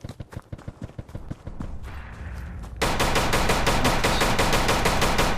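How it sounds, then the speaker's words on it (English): Gunfire in the survival video game Misery: a string of separate muffled shots, then a brief dull rumble, then a sustained rapid burst of automatic fire that stays loud and dense to the end, with no talking. "the gunfire sounded so muffled back there"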